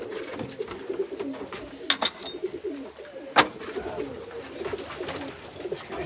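A hen pigeon in a racing-pigeon loft gives soft, repeated cooing calls, with a few sharper clicks and rustles nearby while someone talks quietly.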